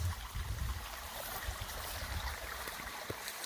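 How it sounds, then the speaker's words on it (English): Water from a creek on a wooded mountain property flows steadily with a broad, continuous rushing hiss, close and even throughout, with no voices. "So this is still the creek here."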